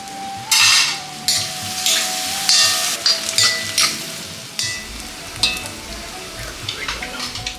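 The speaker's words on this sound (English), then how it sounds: "A little salt goes in and we let the onions soften slowly." Three small-to-medium onions with a pinch of salt softening in a pan, a steady close sizzle broken by repeated scraping stirs and light clinks of a utensil against the pan.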